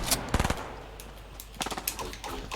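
Fortnite gunfire: a short, rapid burst of shots, then a second scattered volley a little over a second later, fairly close and without talk.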